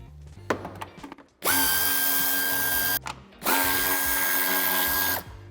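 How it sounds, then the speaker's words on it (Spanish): Power drill driving out the 10 mm tail-light screws and 8 mm bumper screw on a 2015-on BMW 2 Series Gran Tourer F46, with a few clicks before two loud, steady whirring bursts separated by a brief pause. "quitamos el tornillo que sujeta el paragolpes de cabeza de 8 y con cabeza de 10 los tornillos que sujetan el piloto."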